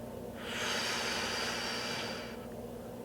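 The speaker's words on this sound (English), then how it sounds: "breathing out" A single slow exhale during a box breathing exercise, a soft steady breathy rush that swells for about two seconds and then fades, close and alone with no talking.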